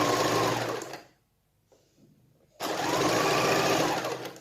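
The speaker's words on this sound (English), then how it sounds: "So you keep sewing." A sewing machine runs in fast, steady bursts while stitching pin tucks on a top's neckline, stopping briefly in the middle before starting up again, close and clear.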